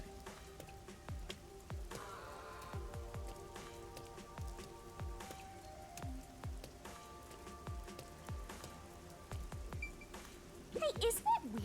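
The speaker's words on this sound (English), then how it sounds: "isn't it weird how it's not flooded, given how it's always raining here?" Rain falling in the video game Master Detective Archives: Rain Code, a soft, steady patter under game music and scattered sound effects, with a brief louder burst near the end.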